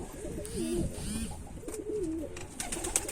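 A young red speckled pigeon coos up close in a few soft, rolling phrases, alone against faint background noise.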